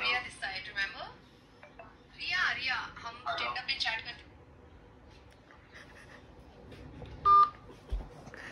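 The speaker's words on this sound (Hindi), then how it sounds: "पहले एक फर्स्ट फ्रेंड को फोन लगाते हैं" A mobile phone is dialled to place a prank call, a brief electronic keypad tone sounding late in the clip after stretches of lively talking and background chatter.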